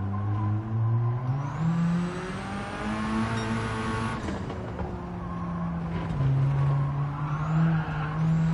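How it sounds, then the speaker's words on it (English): A race car spins its wheels at the Tsukuba circuit in Gran Turismo 7: a steady, loud engine drone rises and falls with revs, mixed with tire squeal, without pause. "All that wheel spin. Stupid wheel spin."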